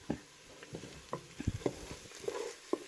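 Quiet, close frying with soft sizzling and scattered crackles, plus occasional stirring scrapes in a pan.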